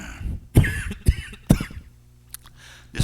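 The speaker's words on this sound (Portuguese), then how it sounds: "Desculpa a tossida, engasguei aqui." Several short, sharp coughs from a single nearby person, spaced unevenly across a few seconds as though clearing a choked throat, with a faint throat-clearing sound near the end.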